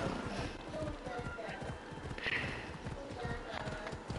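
Horse hooves galloping in the video game Assassin's Creed Odyssey, a steady rapid clip-clop rhythm under continuous game ambience, with voices speaking over it.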